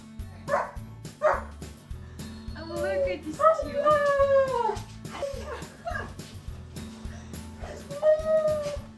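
Golden Retrievers and a German Shepherd whimper, whine and let out rising howls close by, coming in repeated bursts with short pauses between them.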